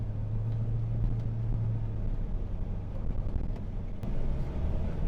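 A 2002 Jeep Grand Cherokee Overland cruises along a road, giving a steady low engine and road rumble with some wind buffeting and no voices.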